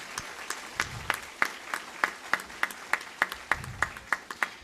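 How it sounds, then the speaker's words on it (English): A sparse scattering of claps from a small town hall audience, distinct individual hand claps repeating at a brisk, fairly even pace, fairly quiet and slightly distant. "So let's give him a round of applause for that."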